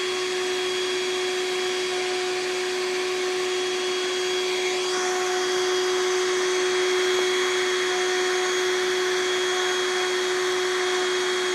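A big green vacuum draws in a live bee swarm in Los Angeles, its loud, steady motor whine holding constant the whole time, with a slight pitch shift midway and no talking.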